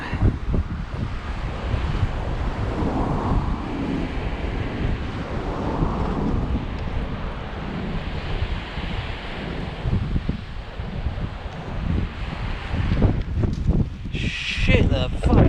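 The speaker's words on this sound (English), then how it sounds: "Tide's here, so some big waves." Big sea waves breaking at the shore at high tide, driven by cold wind buffeting the microphone in a continuous loud roar, with occasional voices shouting over it.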